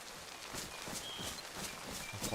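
Steady rain falls in a zombie survival video game, a dense, even hiss that holds for the whole stretch with faint irregular patters and soft taps beneath it. No voices are heard.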